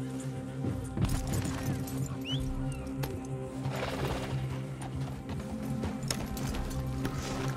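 Horse hooves in Red Dead Online clop in a steady riding rhythm over a continuous game soundscape, moderately close with no talk over them.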